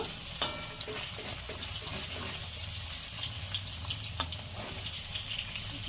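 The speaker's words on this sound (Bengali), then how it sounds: "এবার পনিরগুলো ভেজে তুলে নেব" Cubes of paneer fry in hot oil with a soft, steady sizzle. Two sharp clinks, like a utensil tapping the pan, break through. No one speaks.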